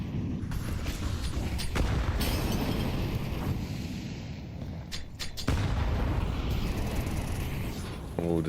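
Grenade blasts and gunfire in a Counter-Strike match, a dense, continuous barrage of booms and shots with louder bursts near the middle, heard alongside game commentary.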